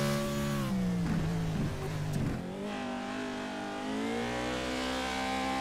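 A Pro4 off-road racing truck in a video game at Crandon roars hard out of a corner, its engine note climbing steadily with brief bursts and wheel chatter, loud and continuous throughout.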